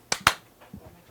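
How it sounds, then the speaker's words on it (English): Two sharp hand claps in quick succession, close and crisp, followed by faint movement and quiet room sound. "Clap for audio sync"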